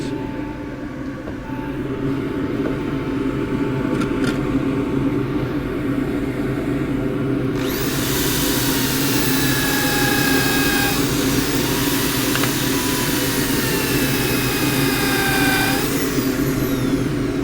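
Turned wood dish on a running lathe, motor hum throughout, with a brighter rushing scrape of 120-grit sandpaper against the spinning wood starting midway and continuing steadily.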